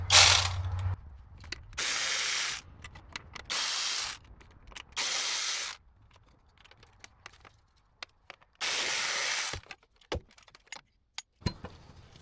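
A ratchet works 10mm bolts off the throttle body of a 2009 BMW 328i, with several separate bursts of quick clicking close up, broken by pauses filled with small metallic handling noises.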